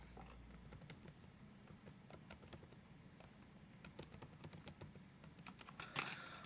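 Quick tapping of keys on a calculator, a steady run of light clicks close by under a low hum, ending in a slightly louder cluster.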